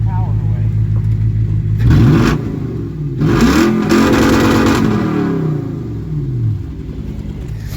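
A V8 Toyota Sequoia with straight-piped exhaust blips its throttle in neutral, several loud, close revs that rise and fall over a rumbling idle, with people talking.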